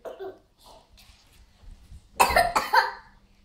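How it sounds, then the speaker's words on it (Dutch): Someone coughs close by in a home setting, a few loud harsh coughs in quick succession after quieter murmuring and small sounds. "Oh, hoesten, proesten."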